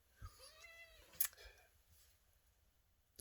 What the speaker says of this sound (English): The cat just jumped up here, so there she is. It's a kitty.